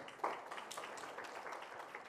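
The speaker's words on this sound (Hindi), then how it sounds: "मैं आज चाहूंगा कि आप जोरदार तालियों के साथ स्वागत करें वीरेंद्र" An audience claps steadily to welcome Income Tax Commissioner Virendra Ojha at the launch of his book 'Kuch Shabd Mere', a dense, fairly faint wash of many hands with one sharper clap near the start.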